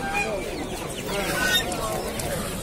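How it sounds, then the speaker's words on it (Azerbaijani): Roosters crow and cluck at the Sabunchu poultry market, amid a dense, noisy crowd with people talking nearby. "Burada da belə xoruzlar var."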